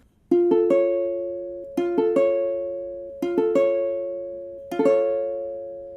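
An augmented chord played four times as a rolled arpeggio on a piano-like instrument, each note sounding in quick succession and ringing out before the next repetition.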